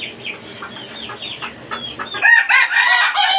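Tiger-breed chickens on a rooftop farm cluck and crow loudly nearby, a rooster's call rising sharply after a stretch of softer clucking and bird chatter.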